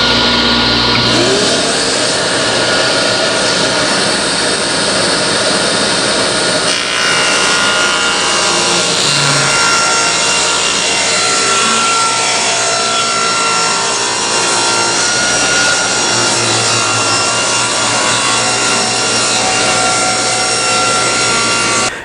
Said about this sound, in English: I just cut off a 1-inch strip on this edge of the board